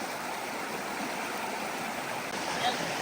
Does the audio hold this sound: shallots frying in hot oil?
no